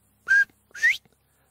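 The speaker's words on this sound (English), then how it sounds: "most people are much more interested in hearing the iconic whistle of" A northern bobwhite quail gives its two-note whistle call, a short clear note followed by a rising, slurred second note, close and loud against silence.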